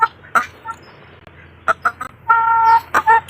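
A large live chicken, about 4 kilos, clucks in short bursts, several close, loud calls separated by brief pauses with a faint hum behind them.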